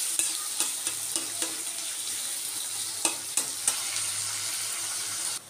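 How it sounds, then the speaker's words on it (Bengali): Chopped onions fry in a small amount of oil in a pan, giving a continuous bright sizzle broken by occasional sharp clicks and scrapes as they are stirred. "অল্প তেলেই পেঁয়াজটাকে ভেজে নিচ্ছি"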